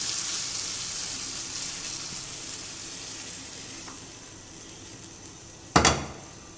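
Chicken fries in a pan for shawarma, a steady close sizzle that slowly softens, broken near the end by a single sharp clank of metal.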